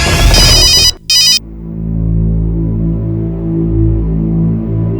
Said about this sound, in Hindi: कौन है जो तुम्हें फोन कर रहा है बार बार?